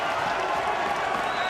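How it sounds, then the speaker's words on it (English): A stadium crowd at a field hockey match between Australia and India cheers and applauds in a steady, dense roar that fills the whole moment without easing off. "Once more, the crowd are cheering."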